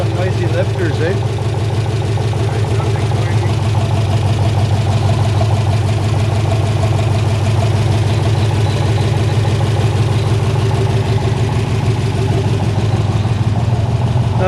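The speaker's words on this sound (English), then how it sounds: "Definitely has some noisy lifters" A modern LS V8 idles steadily in a 1956 Chevy hotrod, its low engine rumble continuous and close with a faint ticking from noisy lifters riding on top throughout.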